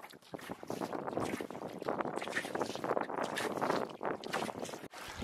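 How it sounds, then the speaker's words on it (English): A canoe being paddled across a lake, with water sloshing and splashing close by against a heavy, gusty wind rumble and no voices. "I got a lot of paddling to do, so I gotta get going"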